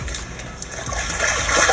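A large catfish released into a lake, splashing and churning the water close by, the wash growing louder toward the end.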